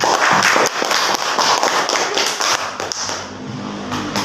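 A class applauds a student, with brisk, steady clapping from a group of people in a classroom that holds for a few seconds and then thins out.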